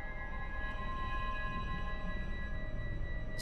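A scanner sweep hunting for listening devices in Star Wars: The Old Republic, a steady electronic hum with layered sustained tones and faint clicks, running evenly with no speech.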